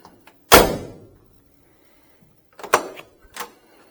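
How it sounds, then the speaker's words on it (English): Passenger door of a 1965 Pontiac GTO snapping shut with one solid, close thunk, followed a couple of seconds later by a few lighter latch clicks and knocks. "Door just snaps shut beautifully."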